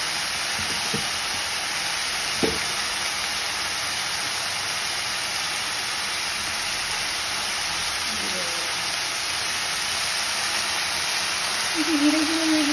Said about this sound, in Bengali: এবার এটাকে আস্তে আস্তে ভেজে নেব